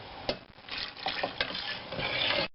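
A spoon stirs thick sauce for amala (oat fufu) in a pot after a splash of water is added, giving close, wet scraping and sloshing with small clinks against the pot.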